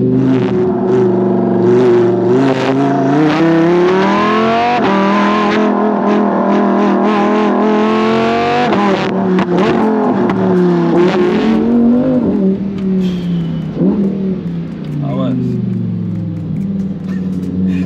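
A Lamborghini Huracan EVO with 640 horsepower accelerates hard, its engine note climbing through the revs, then downshifts with sharp pops and crackles, loud and close.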